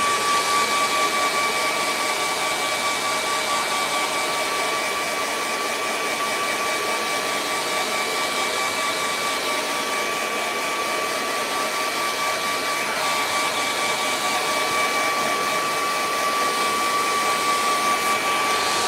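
A hair dryer blows steadily to dry acrylic paint on a kangaroo-in-sunset painting, a constant loud whirring hiss with a faint steady whine, running alone without pause.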